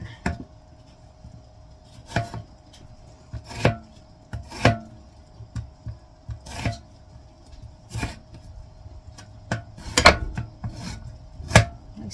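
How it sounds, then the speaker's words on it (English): An onion sliced with a knife on a cutting board for tacos, a dozen or so sharp close knocks at uneven intervals with light rubbing between, no talk. "Slice the onion."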